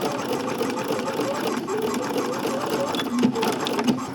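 A sewing machine runs continuously, stitching a channel in a linen pant with a close, steady mechanical hum and rapid needle chatter, while a person talks over it.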